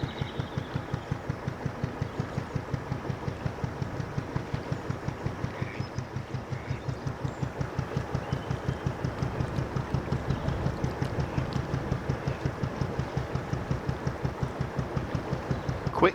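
Aslan, a narrowboat, chugs along with a steady, rapid diesel thump that stays even and close throughout, with no talking over it.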